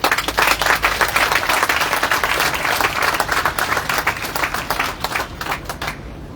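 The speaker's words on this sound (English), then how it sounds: "Liberia deserves a big round of applause." An audience at a formal UN Day celebration in a UN compound in Liberia breaks into sustained, dense applause, many hands clapping loudly and evenly before fading slightly at the end.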